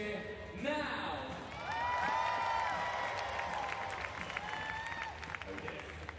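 A crowd at a wheelchair basketball game between Poland and Germany at the 2012 London Paralympics claps and cheers loudly and steadily. Whoops and shouts rise over the applause, and voices carry through the arena.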